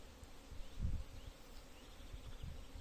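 Honey bees at an apiary buzz faintly in the background, a soft, steady drone with a few louder low thumps of wind or handling.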